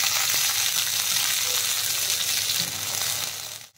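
Cut vegetable stems sizzling in hot oil in a pan with bitter gourd, a steady close frying hiss that holds loud throughout and fades out at the very end.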